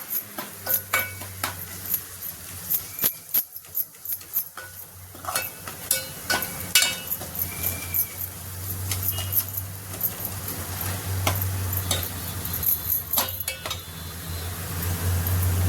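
Homemade Ghati masala spice mix stirred in a hot frying pan, with repeated scraping strokes and clicks of a spoon over a steady sizzle, close and continuous.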